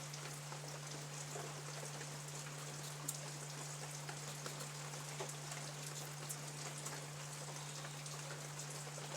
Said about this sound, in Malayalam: ഞങ്ങൾക്ക് ഇവിടെ ഭയങ്കര മഴയാണ്, നല്ല മഴയാണ് കേട്ടോ.